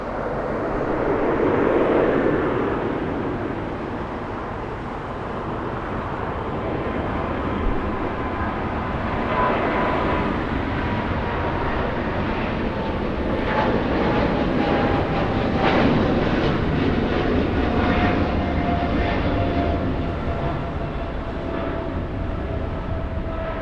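A jet airliner departs Los Angeles International Airport and banks left. Its broad roar swells, holds, and slowly fades as a descending whine drifts downward, heard from outside without any talk.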